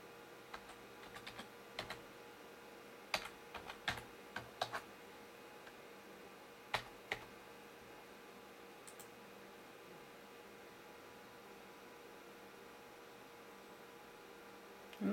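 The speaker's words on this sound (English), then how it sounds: "I'm going to simply type" Sparse, quiet keystrokes on a computer keyboard typing a short word, a few isolated clicks and small bursts over a low steady room hum, then silence.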